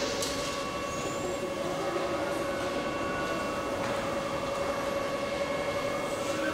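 Berlin U-Bahn F74 prototype train on line U9, a steady rumbling rail drone with tonal hum and faint high whine throughout, continuous and fairly distant, no talk.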